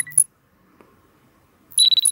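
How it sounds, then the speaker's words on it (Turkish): An alarm in a game gives two bursts of high, shrill electronic beeping, one short burst at the start and a longer pulsing burst at the end, separated by near silence. "Alarm çalıyor."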